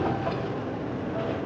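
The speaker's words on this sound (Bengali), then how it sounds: "ট্রেনটা আবার গতি নিল" A train running on the rails gives a brief, steady rumbling roar with a faint rattle, close and moderately loud, with no voices.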